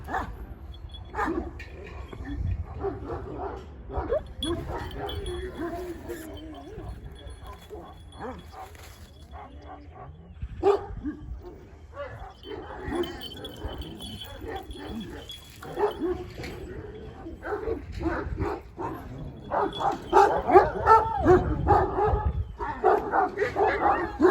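A dog barks and yips repeatedly amid a busy, noisy background, with people talking throughout; the barking grows louder toward the end.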